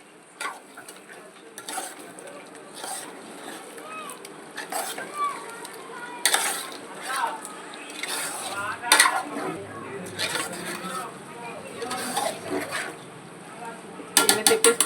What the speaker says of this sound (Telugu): అది చల్లేసుకుందాం. ఇలా వేసేసుకొని ఒకసారి ఇలా తిప్పేసుకొని